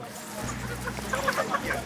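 Soft clucking from a few chickens, brief and fairly close, with some low background rumble underneath.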